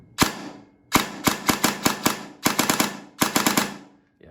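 A Systema Infinity airsoft gun fires sharp, snappy shots close up: a single shot, then several rapid bursts of cracks separated by brief pauses, with no voice over them.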